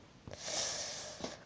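A person with a head cold gives one drawn-out nasal sniff, a short breathy rush of air through the nose framed by two soft clicks, close and quiet, with no talk.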